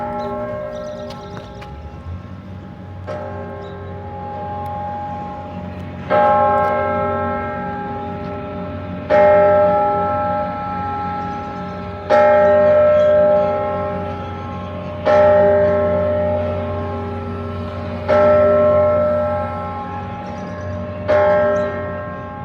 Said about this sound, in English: What you just heard was the Centennial Bell.